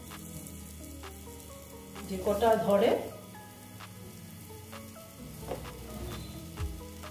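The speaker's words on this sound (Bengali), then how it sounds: "এখন আমি আস্তে আস্তে সব বেগুন ভাজাগুলো দিয়ে দেবো" Brinjal slices frying without oil in a pan give a soft, steady sizzle, swelling louder for a moment as slices are added, with someone speaking quietly over it.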